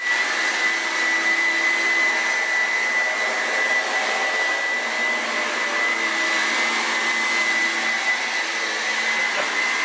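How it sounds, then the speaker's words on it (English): A vacuum cleaner drones steadily throughout, a constant whine with a strong high tone, close and unbroken. "Our dog wants to go toe-to-toe with the vacuum cleaner."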